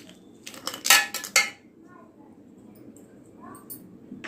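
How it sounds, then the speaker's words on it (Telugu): Ice cubes clatter into a mixer jar for a banana milkshake: a quick cluster of hard, bright knocks and rattles in the first second and a half, then quiet with faint kitchen noise. "నెక్స్ట్ ఐస్ క్యూబ్స్ యాడ్ చేయాలి"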